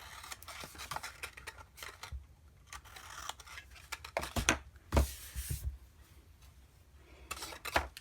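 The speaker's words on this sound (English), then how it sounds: "We might need to trim that just a wee bit, which I do." Scissors trimming a paper craft panel, a series of close, crisp snips and rustles in uneven bursts with short pauses between cuts.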